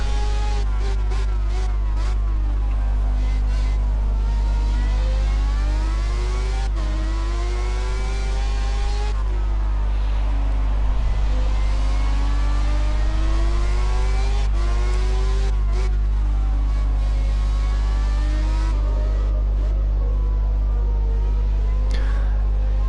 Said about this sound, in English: Let's ride on board and enjoy the sounds of the engine.